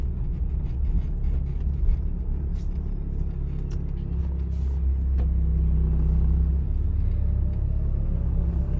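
A car approaches a roundabout in Cherkasy while holding the middle lane, with a low steady engine and road rumble inside the cabin that swells slightly midway and carries no talking.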